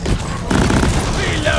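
Sentry turret in Deep Rock Galactic firing a rapid, dense burst of automatic shots, loud and close, layered over busy game noise.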